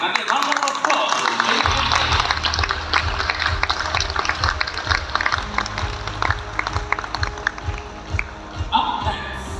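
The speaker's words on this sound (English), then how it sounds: "And a round of applause." An audience claps for student presenters at a water sustainability event, dense, sustained applause filling the room for nearly ten seconds with a low hum underneath.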